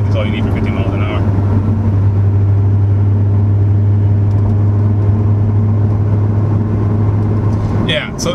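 A 2015 C7 Corvette with a Procharger cruises in seventh gear at about 50 mph, a steady low engine drone with road rumble. Someone talks over it.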